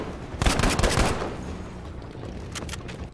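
Submachine gun firing in the video game Battlefield 5, a rapid close burst of automatic shots for about a second, followed by quieter distant gunfire and a couple of later shots.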